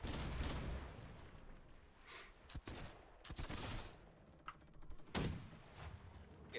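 Cannon shots from a sailing schooner in a naval video game, a volley of sharp booming blasts and thuds spread across a noisy battle soundscape, loud and close.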